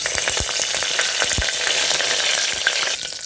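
Pandan leaves drop into hot oil, bringing a loud, steady sizzle and crackle with a few sharp pops and some stirring, and no voices.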